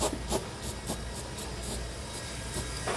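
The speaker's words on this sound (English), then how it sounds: "And we just want to spray our hole here." Aerosol can of clear coat sprays into a drilled hole in a 2020 Chevy/GMC truck frame during a Curt fifth wheel hitch installation, a steady close hiss with short bursts, no talking.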